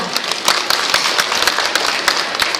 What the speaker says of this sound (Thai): ขอเสียงปรบมือเป็นกำลังใจให้กับสาวๆของเป็กด้วยค่ะ